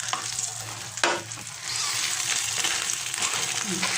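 An egg omelette with tomato, garlic and red onion filling sizzles steadily in a frying pan after being flipped, with a bump of stirring near the start; the sizzle is close and continuous.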